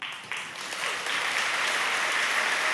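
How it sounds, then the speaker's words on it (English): Applause from a large church congregation at a live-streamed talk, a steady wash of many hands clapping that swells after a sharp start and holds loud without any voices over it. "Lovely, thank you so much for clapping"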